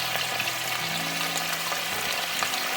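Crabs frying in a pan for a home-style Andhra crab fry, a steady close sizzle with light crackles and spatter running throughout, no voices.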